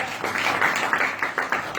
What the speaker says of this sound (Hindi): तालियां धन्यवाद करें